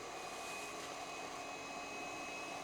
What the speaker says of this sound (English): Switch the vacuum on.